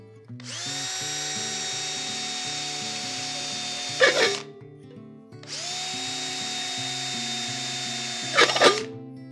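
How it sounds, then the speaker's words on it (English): A power drill whines steadily for several seconds, grinds through a metal jar lid with a harsh burst, stops, then repeats the same run. "we're going to use the top of the jar to hold this in place while we drill"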